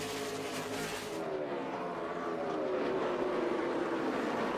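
NASCAR stock cars race in close formation at Martinsville, a dense, steady engine roar that swells and shifts in pitch as the pack passes, loud and continuous with no talk over it.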